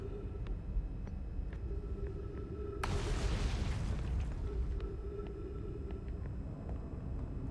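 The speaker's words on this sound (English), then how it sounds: "Stuff is exploding behind me," Explosions going off behind the player in a video game, a sudden loud blast followed by a rumbling roar that fades over a few seconds, heard over a constant low engine-like drone.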